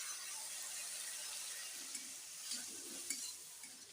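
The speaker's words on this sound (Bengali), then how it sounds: "এবারে মশলাটা ভালোভাবে কষে নিচ্ছি" Spice paste for mutton do-piyaji frying in a pan, a faint, even hissing sizzle with a few soft stirring scrapes near the end.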